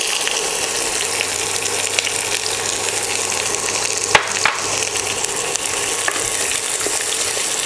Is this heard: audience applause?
no